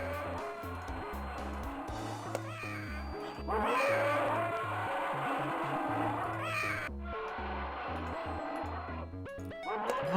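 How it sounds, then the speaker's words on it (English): Scorpion creature in the 1994 adventure game King's Quest 7 making cat-like cries over looping game music, with repeated yowling calls standing out at a steady, fairly loud level. "Why does the scorpion sound like a cat occasionally?"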